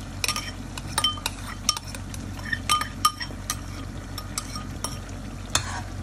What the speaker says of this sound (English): Give it a stir so that it's well combined.